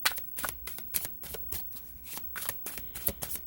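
A deck of tarot cards is shuffled in quick repeated riffling bursts, close and fairly quiet, with no talking.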